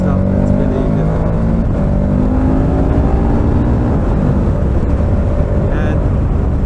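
Steady loud engine and road roar from a 2021 KTM 1290 Super Adventure S on the German Autobahn, with traffic and trucks passing close by throughout.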